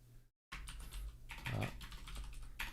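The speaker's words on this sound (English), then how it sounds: "What am I typing?" Keys on a computer keyboard clatter in quick, irregular bursts close to the microphone after a brief silence, with no talking.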